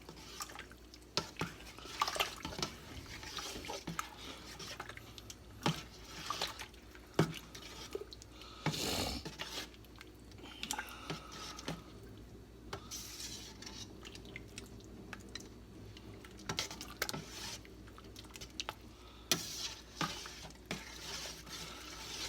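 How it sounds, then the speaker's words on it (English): A spoon works through a pot of gumbo, giving intermittent wet scrapes, soft drips and clinks at close range with no talking. "And stir."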